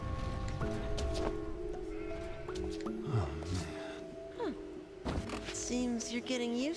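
Sheep bleat several times in short wavering calls from the puzzle video game Catherine, amid game effects, thuds and music, with voices speaking now and then.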